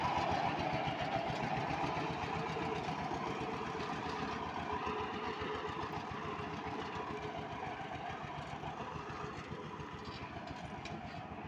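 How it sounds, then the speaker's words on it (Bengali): The 16 diesel engine of a hydraulic bhotbhoti motor van, a dumping trolley carrying soil, chugs at a steady idle with a rapid knocking rhythm, close by and fairly quiet, with no voices. "এটা হচ্ছে 16 ইঞ্জিন, ধুঁয়ো বের হচ্ছে।"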